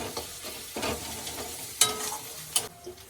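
Garlic paste drops into browned, reddened onions frying in a pan, bringing a soft sizzle with intermittent stirring scrapes and a couple of brief sharp clinks, close and moderately quiet.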